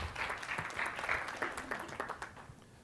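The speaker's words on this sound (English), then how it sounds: "Quick round of applause for Michelle, please." Audience applause at an affiliate marketing conference, a dense spread of hand claps from a crowd that swells and then thins over a few seconds, with no talking.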